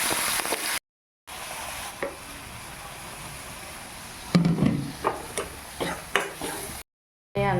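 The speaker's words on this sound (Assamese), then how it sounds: "যে বনাই ৰাখিছিলোঁ পেষ্টটো, এইটো এতিয়া মই কেৰাহীত দি দিম।" A homemade spice paste goes into a hot kadai while a taro-leaf dish is cooked, giving a steady close hiss broken by a few clinks and scrapes of stirring, with no voices.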